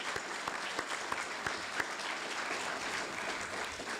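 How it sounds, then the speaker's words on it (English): A crowd at a fire department awards ceremony applauds steadily, a continuous patter of clapping heard from a moderate distance with no voices over it. "How about another round of applause for all 8?"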